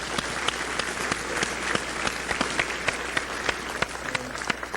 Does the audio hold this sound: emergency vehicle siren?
no